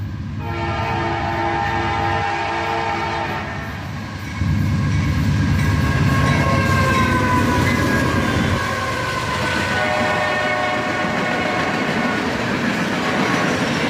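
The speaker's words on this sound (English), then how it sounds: "A manifest train, and he is highballing it." A northbound CSX manifest freight train led by an AC44CW locomotive passes at speed, its horn blaring in long multi-tone blasts over the heavy rumble and rattle of rolling cars, close and loud throughout.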